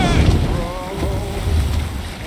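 Sailing ship at sea in the video game Assassin's Creed Valhalla, with steady wind and wave wash against the hull and a low rumbling roar throughout, loud and continuous with no speech.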